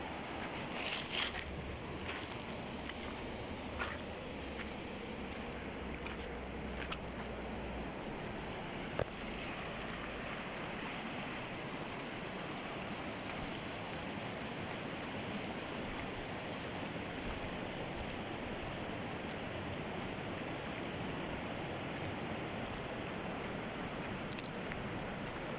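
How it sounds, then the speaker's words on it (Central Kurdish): Heavy river water released under a bridge rushes past in a constant, broadband roar heard from nearby, with a few faint clicks and no voices. "ئەم ئاوەکە ئێستا بەردراوەتەوە بەم زۆریەوە ئەڕوا"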